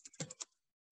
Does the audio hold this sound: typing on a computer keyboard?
yes